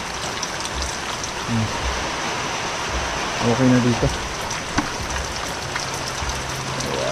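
Heavy rain pours without letup, a constant roaring hiss of water like a rushing stream, while someone speaks briefly in Filipino over it and a few knocks and clatters sound close by.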